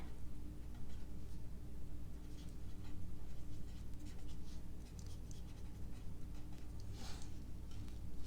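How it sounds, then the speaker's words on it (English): A pen scratches faint, quick strokes on the back of a farmhouse ornament at close range, with short irregular bursts of writing over a soft room hum. "on the back side you write what it is."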